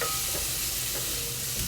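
Chopped garlic sizzles in a hot frying pan, a bright continuous crackle with light stirring and no talking.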